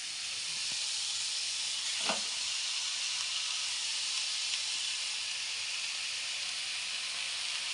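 Green chickpea leaves go into a hot pan and sizzle with a steady bright hiss, a single sharp crackle standing out early, the frying otherwise even and moderately quiet throughout.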